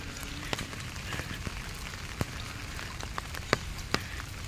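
Light rain falling in an outdoor park, a soft steady patter with occasional sharper drops hitting nearby surfaces, quiet and even throughout.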